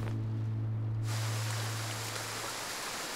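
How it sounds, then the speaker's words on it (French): Rain falling in a cartoon scene, a steady broadband hiss that swells louder after the first second, with a low sustained hum underneath. "De toute façon, la pluie va bientôt s'arrêter"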